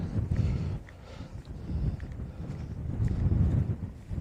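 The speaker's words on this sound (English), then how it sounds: "as you can hear, it's still very windy" Gusty wind buffets the microphone in low rumbling surges on the Dartmoor tors, rising and falling over a few seconds with no talking.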